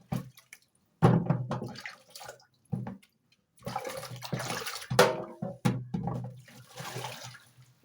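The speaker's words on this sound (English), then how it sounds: "So I'll first rinse them as we have done to the rest." Vegetables rinsed under running water, intermittent bursts of splashing and gushing flow with short pauses between them, close and moderately loud.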